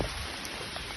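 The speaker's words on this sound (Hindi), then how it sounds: "आज एकदम मूसलाधार बारिश ज़बरदस्त" Heavy monsoon rain pours down in a steady, dense hiss of drops close by, with no voices over it.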